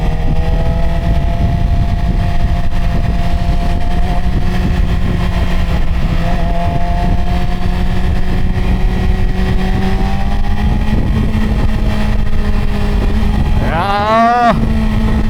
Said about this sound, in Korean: 엔진 소리 너무 좋은 것 같아.